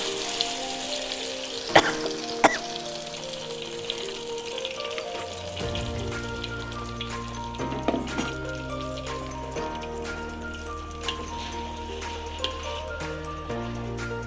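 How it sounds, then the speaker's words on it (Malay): Ground spice paste goes into hot oil with bruised lemongrass for a prawn rendang, making a steady close sizzle and frying crackle, with occasional clinks of a utensil against the pan and soft music underneath. "akan tumiskan bahan yang dikisar"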